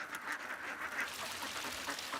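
A flock of ducks in rice paddies quacking continuously, a busy chorus of overlapping calls at moderate distance, fairly quiet.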